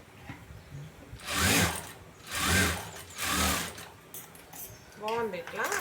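Sewing machine stitching a blouse dori (tie cord), with three bursts of whirring stitching a second or so each, evenly spaced, close by, and someone speaking briefly between and after them.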